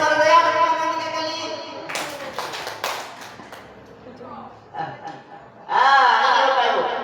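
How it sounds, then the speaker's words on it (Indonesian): A few sharp hand claps ring out from an audience at a workshop on positive school culture, short and separate, set between stretches of a presenter's speech. "ayo yang mendengar sahabat saya tepuk tangan 3 kali"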